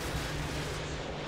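Artillery fire in Call of Duty: Modern Warfare 2 makes a dense, continuous booming roar, heavy and rumbling, with no pause across the short stretch.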